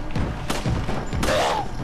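Loud, close shotgun blasts in Resident Evil 4, two sharp booming shots about three-quarters of a second apart with thuds and clatter between them.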